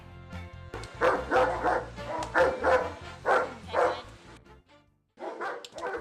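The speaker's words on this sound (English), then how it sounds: "He's a 6-year-old German Shepherd." A 6-year-old German Shepherd barks in a run of deep, forceful barks at close range, about five in quick succession, then a short silence before another burst.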